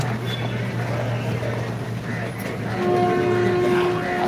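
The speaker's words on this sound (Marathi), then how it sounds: "आता मी शिवाजीनगरला आहे शिवाजीनगर रेल्वे स्टेशन" A train rumbles at Shivajinagar railway station in Pune with a steady low hum, then a long horn tone sounds near the end.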